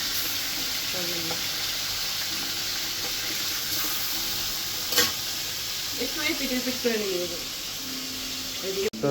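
Hilsa fish sizzles steadily in a frying pan, a constant hiss with occasional stirring clinks and a sharper crackle, while voices talk intermittently over the cooking.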